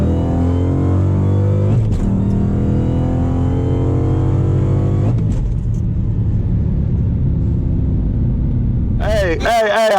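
A Dodge Challenger Hellcat passes with a loud, steady engine rumble that swells and fades across the pass, followed by voices talking near the end.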